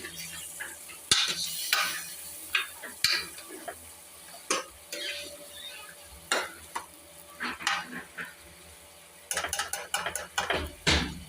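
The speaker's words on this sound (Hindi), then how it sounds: "तो आप हम इसमें ऐड करेंगे चिकन। और अच्छी तरह मिक्स कर लेंगे।" Chicken pieces stirred in a cooking pot for chicken salan, with repeated clanks and scrapes of a spoon against the metal over a low sizzle, irregular and close, ending in a rapid burst of strokes.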